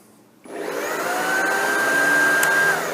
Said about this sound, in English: So that starts the vacuum and gets the brush roll spinning.